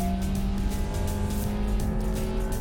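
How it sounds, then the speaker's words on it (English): Honda City engine revving hard at full throttle from a standstill, a loud continuous drone with a steady low harmonic and some tire and road noise, heard from inside the cabin with no talking. "And let's floor this thing once."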